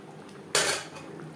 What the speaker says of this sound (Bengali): গ্রেভির সাথে পনির বেশ ভালো করে মিক্সড করে দেব।